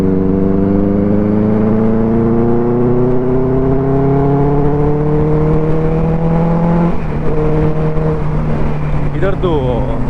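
A motorcycle engine of about 84 bhp revs hard while riding, a loud, close, continuous drone climbing in pitch, dropping briefly at a gear change and then rising again.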